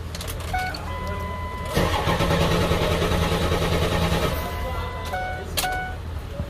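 A Ford F550 truck with a 7.3 diesel engine and a faulty glow plug coil cranks slowly for a few seconds. Short electronic chimes sound before and after the cranking.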